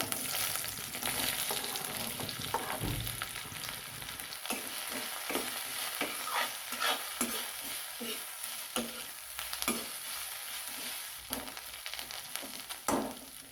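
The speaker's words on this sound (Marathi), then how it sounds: "आता कढईमध्ये तेल घालून तेलात मोठा चिरलेला कांदा भाजून घेऊया" Onion sizzling in oil in a wok, with repeated rhythmic spatula scrapes and clinks as it is stirred, fairly soft and close.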